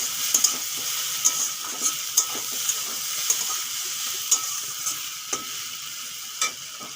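Water spinach with shrimp frying in a pan, a soft continuous sizzle broken by regular sharp taps and scrapes of a spatula stirring against the metal, close and fairly quiet.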